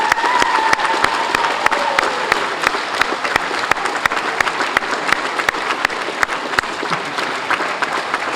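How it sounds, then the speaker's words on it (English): A school audience at a recognition day gives teachers a sustained round of applause, dense and loud, with some crowd murmur and light cheering mixed in throughout. "So join me in giving them a round of applause."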